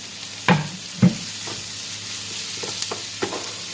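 Onion and pepper frying in a pan, a soft steady sizzle broken by a few sharp scrapes and knocks as a utensil stirs them.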